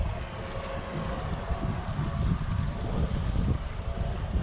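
Wind gusting across an outdoor RC model flying field, a steady broadband roar and rumble buffeting the microphone throughout, with no voices.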